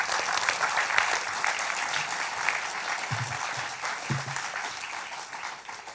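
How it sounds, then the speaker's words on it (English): Sustained, steady applause from an indoor audience at a campaign event's opening remarks rolls on for several seconds, fading gently near the end, with no one speaking over it. "we should give him a round of applause"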